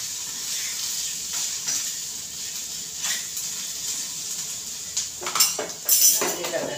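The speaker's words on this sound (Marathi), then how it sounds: "आपल्याला तिला थोडंसं नॉर्मल असे डाग येईपर्यंत आपल्याला अशी भाजायची आहे." Ivy gourd (tondli) roasting in a pan, with a soft steady sizzle beneath scraping and clinking of a metal spoon against the pan, the clatter growing louder and busier toward the end.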